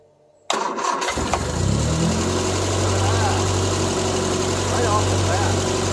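An old Triumph Spitfire engine that had sat unused for 12 years cranks briefly and catches. It then settles into a steady, rumbling idle that stays loud and close, with a little talking around it.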